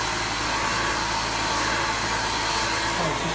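A hair dryer blows steadily and loudly while drying a layered curly bob haircut, a continuous broadband whoosh with no break and no talking.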